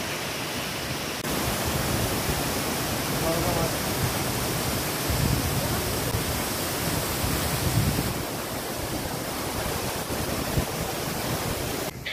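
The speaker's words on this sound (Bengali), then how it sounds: "চলে এসেছি ছাঙ্গি ফলসের একদম কাছে" Changey Falls pours with a dense, steady roar of rushing water that stays loud and continuous throughout, a broad even wash of sound with only small shifts in strength.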